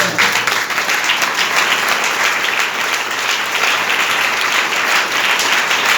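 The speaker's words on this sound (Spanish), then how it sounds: "Demos un aplauso al Señor." A church congregation applauds during a Spanish-language sermon on baptism, loud and close, a dense continuous wash of clapping that stays even for the whole stretch.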